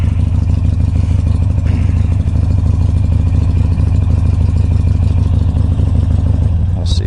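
A carbureted Harley-Davidson Sportster motorcycle engine running nearby, a loud, steady, lumpy low-pitched throb with rapid rhythmic pulsing and mechanical clatter throughout.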